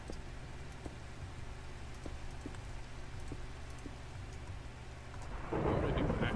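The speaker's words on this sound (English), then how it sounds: "Oh, it's raining again." Minecraft rain patters steadily in the background while low thunder rumbles, swelling into a louder, heavier roll of thunder near the end.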